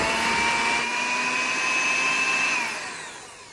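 Electric mixer beating an 8-ounce block of cream cheese with a cup of powdered sugar, a steady loud whirring hum that holds for a few seconds and then winds down, with no talk.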